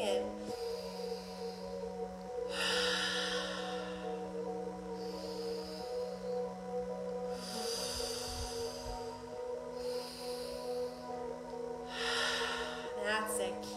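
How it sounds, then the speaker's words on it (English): During a breathwork session, slow deliberate breaths are drawn in through the nose and released through the mouth, several rhythmic airy rushes spaced a few seconds apart over a low sustained musical drone. "breathing in through the nose, out through the mouth"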